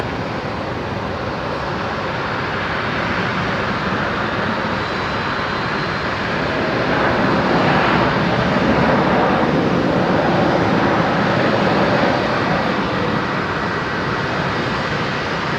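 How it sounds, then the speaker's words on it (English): A Qantas Link Embraer 190 jet arriving at Brisbane Airport at night, a loud continuous engine roar and whine that holds steady and swells slightly midway, with no talk over it. "Looks like the next inbound is going to be the Embraer 190 from Nemea. Coming in as Qantas Link 353."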